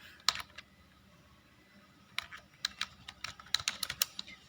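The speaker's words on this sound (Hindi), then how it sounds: "टाइप कर लेंगे अपन" Keys on a computer keyboard are tapped in a quick burst, then after a pause in two clustered runs of close, crisp clicks, with no talk.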